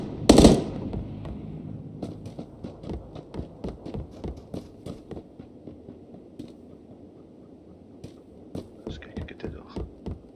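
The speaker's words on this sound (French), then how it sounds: "Ça tire. Ça tire sur la gauche." Distant PUBG gunfire off to the left, a loud crack at the start followed by a long run of faint, evenly spaced shots, with low speech-like murmur underneath.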